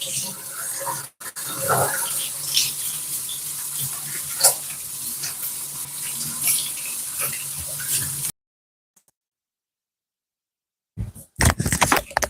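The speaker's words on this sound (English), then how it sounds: "so I can wash my hands from that mosquito spray" Steady broadband rush of water running from a tap for several seconds as hands are washed under it, with small knocks and splashes, then a sudden stop, silence, and brief clatter.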